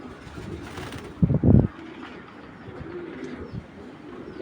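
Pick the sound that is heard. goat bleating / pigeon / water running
pigeon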